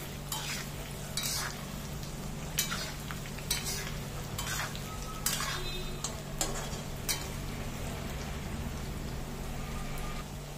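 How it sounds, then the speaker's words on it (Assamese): Jackfruit pieces frying in mustard oil in a black iron wok, a steady sizzle with repeated clicks and scrapes of stirring throughout, close and moderately loud. "এয়া মই কঁঠালখিনি হাফকৈ ভাজি ল'ম"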